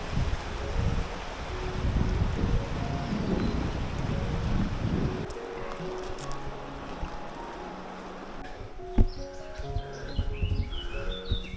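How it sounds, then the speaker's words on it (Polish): Strong wind gusting on a cliffside hiking trail in Slovak Paradise, roaring and buffeting a nearby microphone, then easing to a quieter breeze with occasional bird chirps and a brief knock near the end. "Trochę wieje"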